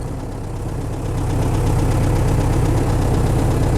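A cold ZiL-130 truck engine idles with a steady, rough, vibrating rumble that gets louder about a second in and stays even, close and alone.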